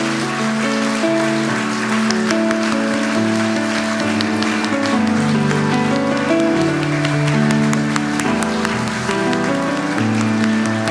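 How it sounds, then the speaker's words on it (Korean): Applause from a Sunday worship congregation welcoming new church members, steady clapping running beneath sustained organ or keyboard music for the whole stretch. "우리 뜨거운 박수로 환영하겠습니다"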